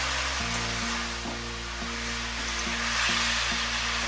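Blanched snow peas are tossed and stir-fried in a hot pan, giving a steady close sizzle with a low droning hum running underneath throughout.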